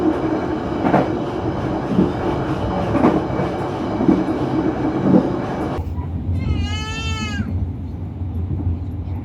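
A passenger train running through Cikampek station in Indonesia gives a steady loud rumble and clatter of wheels on rails, then a rising and falling tonal squeal near the end.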